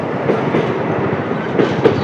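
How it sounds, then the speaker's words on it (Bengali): A train passes close by near Farakka, on the way from Kolkata to Siliguri, its steady rumble and the clickety-clack of wheels over rail joints rolling on without a break, with a few sharper knocks standing out near the end. "এই যে তোমরা দেখতেই পাচ্ছ ট্রেন একটা যাচ্ছে ফারাক্কা থেকে"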